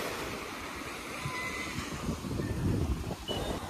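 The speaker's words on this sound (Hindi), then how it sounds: "ये देखो लहरें" Sea waves roll in at Versova beach in Mumbai against shoreline rocks, giving a continuous rushing surf with a low rumbling swell toward the end, heard up close outdoors with some wind.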